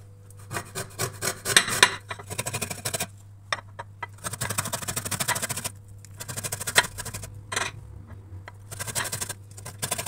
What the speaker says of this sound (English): We can also grate the white parts of lemon peels.